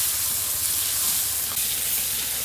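A ginger, garlic and cumin paste sizzles while frying in oil, a loud, steady, close hiss with a continuous crackle and no talk.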